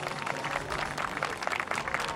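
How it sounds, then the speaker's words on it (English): An audience applauds the competitors in a cattle beauty pageant for blonde cows, a short, even burst of clapping at moderate loudness from a crowd in a hall. "Let's give them all a big round of applause."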